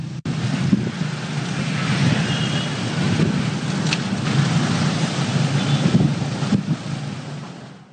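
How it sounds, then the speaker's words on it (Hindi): Heavy rain pours down steadily over busy Lahore streets, a dense continuous roar with low rumbling traffic underneath, loud and unbroken, with no voices. "बारिश शुरू होते साथ ही लाहौर की सड़कों पर ट्रैफिक भी बहुत ज्यादा हो गई"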